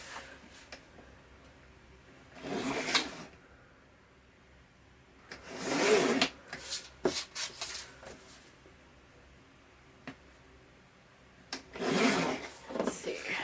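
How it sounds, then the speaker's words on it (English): Paper mat for a scrapbook mini album being trimmed, three separate bursts of crisp cutting and rustling with quiet pauses between, close by. "I need to cut about 1/8 inch off all the way around"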